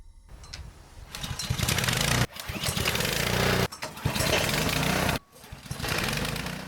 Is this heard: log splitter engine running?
yes